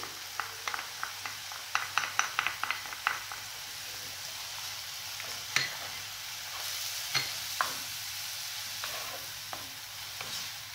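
Garlic, parsley and coriander stirred in olive oil in a pan for a Moroccan meatball tagine, giving a run of soft scraping strokes over a steady low sizzle, close by with no talk.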